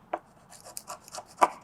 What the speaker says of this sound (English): Scrape away the majority of the old gasket, and then I'll go back in with the Scotch-Brite.